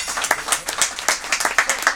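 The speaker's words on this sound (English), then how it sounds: "Let's applaud MPP." Audience applause at a cannabis legalization meeting, a short burst of scattered hand claps that sound fairly close, dense and uneven, with no voices over them.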